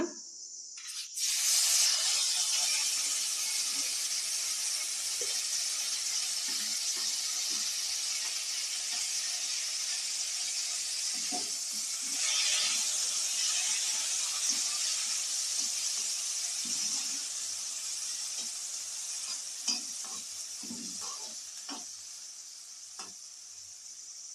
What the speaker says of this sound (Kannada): ಈಗ ಬಾಣಲೆಗೆ ಹಚ್ಚಿರೋ ಟೊಮೆಟೊನ ಹಾಕೊಳ್ಳೋಣ.